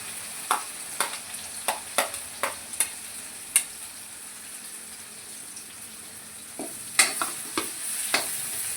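Dry onion fries in hot oil in a Gujarati kitchen. A soft, steady sizzle sits beneath evenly spaced clacks of a spoon stirring against the pan, which pause midway and then resume in a quick cluster.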